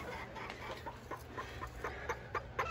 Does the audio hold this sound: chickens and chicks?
yes